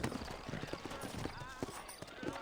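Horses in a Red Dead Redemption town walk slowly, their hooves clip-clopping in an uneven rhythm, moderately close and quiet, with faint ambient game noise underneath.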